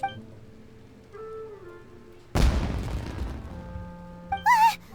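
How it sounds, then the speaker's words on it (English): A fireworks explosion in the video game Genshin Impact lands as one sudden loud boom that decays over a couple of seconds, set between soft game music tones and followed by a brief sparkling burst. "Was that an explosion? It sounded like fireworks."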